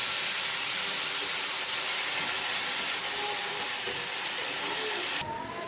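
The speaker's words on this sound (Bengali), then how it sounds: "নুন দিলাম, সাথে আদা জিরে বেটে রেখেছিলাম যতটুকু লাগবে সেটাও একসাথে দিয়ে দিলাম। এবার এটা ভালো করে কষিয়ে নেব।" Salt with a ground ginger and cumin paste fries in a hot pan, a loud, steady sizzling hiss that carries on unbroken before dropping in level just before the end.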